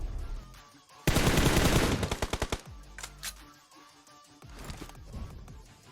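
Loud, close bursts of automatic gunfire in PUBG Mobile, a sustained rapid volley followed by separate spaced shots, then quieter distant firing.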